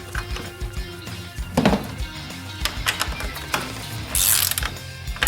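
A socket ratchet clicks in quick uneven bursts with a few metallic knocks nearby while tightening hose clamps on a Mishimoto throttle body hose, with no talk.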